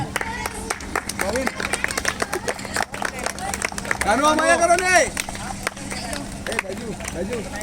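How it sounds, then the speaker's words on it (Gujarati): A crowd at a tournament opening ceremony claps to welcome a guest, with scattered claps under a loud amplified voice and music, and a swell of cheering and chatter around the middle. "ખૂબ ખૂબ તાળીઓથી"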